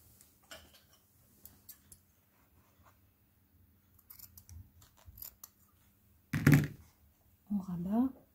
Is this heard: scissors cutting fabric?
yes